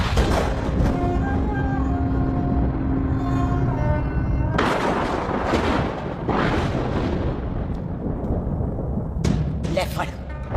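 Several sharp, loud gunshot-like bangs ring out among rumbling, chaotic background noise.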